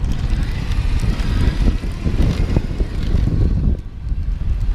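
Heavy wind buffets the microphone while riding an eProdigy Logan fast downhill, a loud low rumbling roar that gusts and dips steadily throughout.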